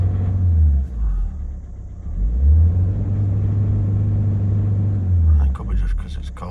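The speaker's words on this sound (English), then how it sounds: "But that's the best it's ever started. Started first time, it didn't crank forever." Citroen C5 petrol engine running roughly after starting, with an uneven low rumble that rises and dips as it revs, close up, while someone talks over it.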